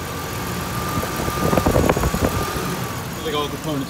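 A 3.0-liter engine in a 1996 Mazda B3000 idles with a steady low rumble, swelling briefly into a rougher patch before settling back.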